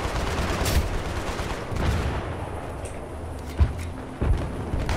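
Gunfire in a Battlefield match crackles in loud, sharp bursts over a dense, noisy battle din, with a few heavier close shots standing out near the end.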